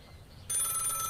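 A telephone rings abruptly after a quiet moment, a bright, steady electronic trill that holds loud and close until the end.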